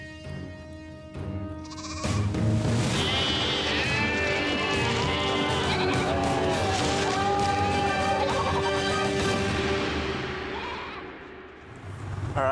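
Several sheep in a field bleating repeatedly and loudly at close range, their wavering calls overlapping over steady outdoor background noise, ending with a quieter stretch.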